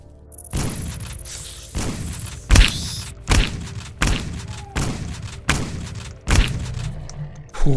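Gunfire in the video game All Evil Night: a series of about nine loud, booming shots spaced roughly a second apart, each with a sharp attack and a short decaying tail, heard alone without talk.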